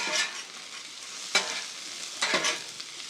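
Garlic butter sizzles and fries on a steak sandwich griddle while a utensil scrapes and stirs in three distinct strokes, heard close with no talk.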